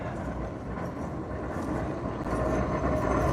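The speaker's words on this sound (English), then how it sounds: "There's a tram coming, tram check." A Blackpool tram passes along the street, a broad steady rumble that swells slightly louder toward the end, heard fairly close with no talk over it.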